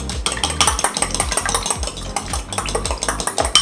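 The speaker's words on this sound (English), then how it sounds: "We'll give that a little whisk." A whisk rattles quickly against a bowl as garlic is beaten into a zucchini slice batter, rapid rhythmic metallic clinks and scraping strokes, close and fairly loud with no talking.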